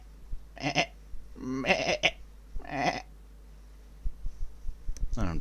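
A man imitating a sheep with his voice, giving three separate bleats with short gaps between them, then a brief breathy burst at the end. The sounds are close and fairly loud over a quiet background.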